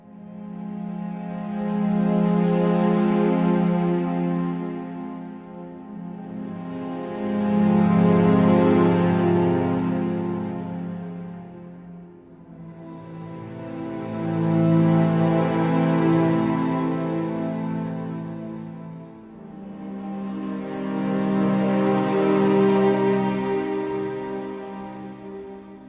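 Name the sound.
live recorded long string texture fading in and out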